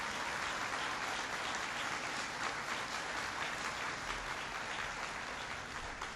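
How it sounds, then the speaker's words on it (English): Sustained audience applause during a presidential speech on energy, a soft, distant, uniform rush of many hands clapping that holds at a constant level. "That's worth applauding."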